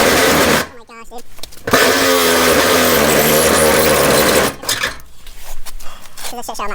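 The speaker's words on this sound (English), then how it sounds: "I'm going to use the hacksaw for the rest of it and get a much cleaner cut." A hacksaw cuts through a Toyota Tacoma fender flare with rough, rapid rasping strokes in long bursts, close and loud, broken by short pauses.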